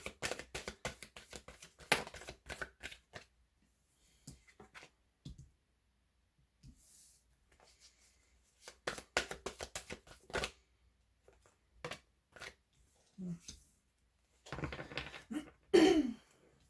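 Tarot cards are shuffled in close, quiet bursts of rapid riffling and clicking, broken by short silences and a few soft taps across a long stretch.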